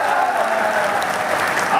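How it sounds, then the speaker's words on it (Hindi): A crowd at a public gathering in Amanganj breaks into loud, dense applause, a steady wash of many hands clapping together close by with no pause. "ताली एक बार और जोर से बजाओ तो हाँ कर देता हूं।"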